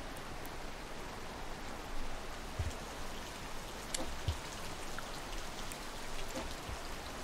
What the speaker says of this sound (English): because the rain was coming.